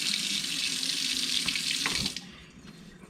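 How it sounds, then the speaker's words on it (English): Hands rinsed under a running kitchen sink tap, a steady close splashing stream that cuts off after about two seconds, leaving faint drips and quiet. "Wash my hands off real quick."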